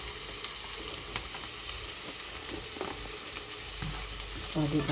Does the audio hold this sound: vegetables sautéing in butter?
yes